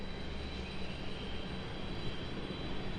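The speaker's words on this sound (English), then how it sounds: "Got an exec jet off on the other side." An executive jet taking off at Raleigh-Durham International Airport, heard as a steady, broad engine roar from the far side of the field, with no voices over it.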